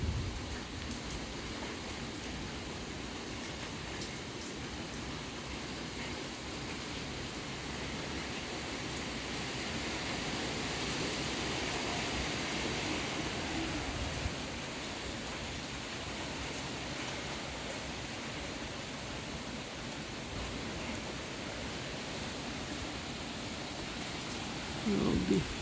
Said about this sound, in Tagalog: pabugso-bugso yung ulan.